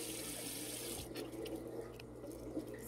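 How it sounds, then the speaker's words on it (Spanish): Tap water runs into a sink as a face is rinsed with cold water, a steady soft rush with faint splashes from hands, quiet and close. "Enjuago mi rostro con agua fría"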